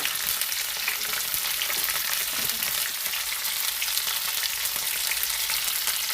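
Cut lemons for pickle hiss in hot oil in a pan, a dense, loud, unbroken sizzle that holds evenly throughout with faint stirring underneath and no voices.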